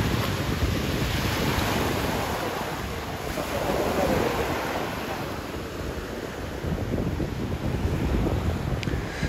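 Sea waves washing onto Es Trenc, a long natural beach at Campos on Mallorca, as a steady broad surf roar with gusty wind buffeting the microphone, continuous and close, with no voices.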